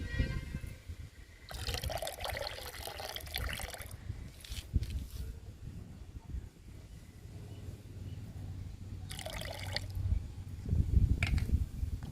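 Coffee powder liquid poured and stirred into a 10-litre bucket of water, making soft splashing, sloshing and dripping sounds in bursts, with quieter pauses between them.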